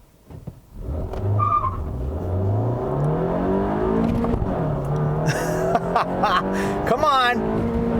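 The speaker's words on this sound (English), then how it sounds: "It's got a lot of induction howl, not much in terms of exhaust noise, just a lot of induction howl" A 2018 Honda Fit Sport with a six-speed manual revs hard, its induction howl climbing in pitch through repeated pulls with a brief squeal near the end, close and loud, while someone speaks briefly.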